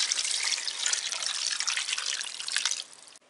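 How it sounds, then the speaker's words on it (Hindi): Water pouring into a cooking pan of kofta curry, a steady close hissing trickle that stops abruptly near the end. "अब जो है इसके बीच में वाटर भी डाल लेते हैं।"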